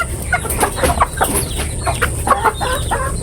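Several chickens, including young chicks and grown hens, cluck and chatter together in a farmyard, with a steady stream of overlapping close calls and no speech.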